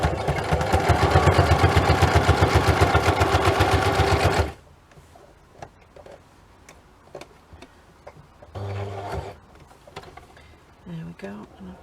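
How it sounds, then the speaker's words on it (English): A sewing machine stitches through paper ephemera in a loud, steady run of rapid ticking for about four seconds, then stops, leaving quieter handling clicks and a short burst of movement. "now, loud sewing noise"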